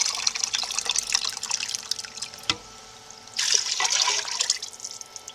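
Water pours into a pressure cooker holding goulash ingredients, a close splashing trickle that eases off briefly midway and then surges again.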